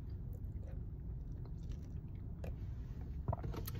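Close, moist chewing and biting of a healthy green food made with peanut butter, soft crunches repeating alone with a sharper bite near the end.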